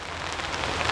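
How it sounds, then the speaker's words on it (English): Rain falling on the plastic roof of a greenhouse tunnel, heard from inside as a dense, steady patter of raindrops with scattered sharper drips, close and fairly loud. "You probably hear that it's raining inside the tunnel, and probably hear the raindrops above,"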